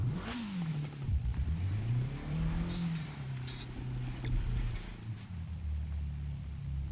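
A KTM X-Bow sports car in The Crew 2 racing game revs its engine, the pitch swooping up and down in several rising and falling sweeps before settling into a steady drone.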